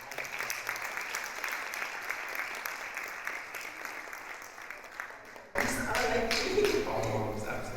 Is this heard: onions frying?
no